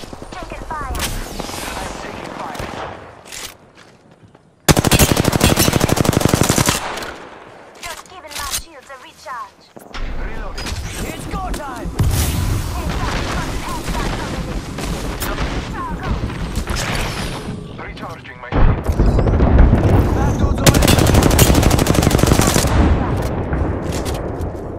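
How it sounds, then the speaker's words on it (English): Bursts of gunfire in the Apex Legends video game crack out in loud, dense volleys between quieter stretches, mixed with in-game voice callouts and other combat noise. "Getting shot at."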